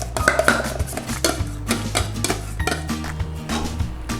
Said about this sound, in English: we need to stir in our spinach. So get our spinach in there